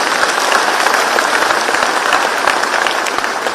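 A church audience claps for its leaders and priests, dense sustained applause from many hands, loud and even throughout with no voices standing out.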